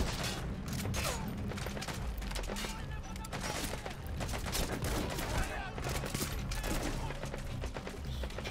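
Rapid gunfire and heavy shots in Metal Gear Solid 5: The Phantom Pain, including sniper rifle fire, come in dense, loud bursts filling the whole stretch with a steady, chaotic battle din.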